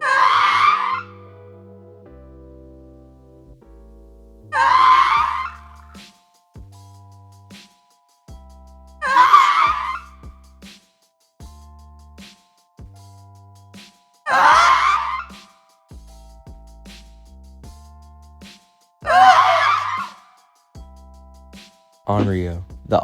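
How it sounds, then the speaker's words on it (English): The Artist killer in Dead by Daylight falls from a tall height, letting out a gasping, groaning cry that repeats five times at regular intervals, each separated by short low tones. "The Artist is the only killer in the game to make a unique sound when falling from a tall height."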